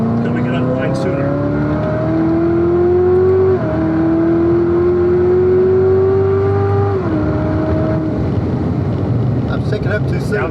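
A 2019 Corvette ZR1 engine screams under hard acceleration on the Spring Mountain race track, pitch climbing steadily through two quick upshifts, loud and close from inside the car, with an instructor's voice faintly underneath.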